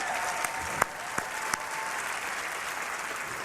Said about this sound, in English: Could I please have production. another round of applause